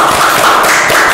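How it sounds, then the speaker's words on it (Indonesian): An audience claps together in a continuous, dense patter of applause, loud and close, with no voices heard over it. "tepuk tangan untuk Kanadia"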